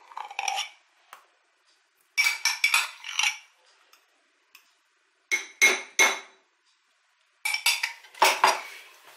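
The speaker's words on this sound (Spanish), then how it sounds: "Y ahora vamos a mezclarlo con movimientos envolventes, así suavemente." A spoon gently folds whipped cream into a cooled mushroom cream in a bowl, making clinks and scrapes against the dish in four separate clusters with quiet pauses between them.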